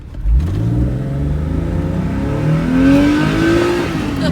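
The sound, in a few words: 2007 Porsche 4S convertible engine revving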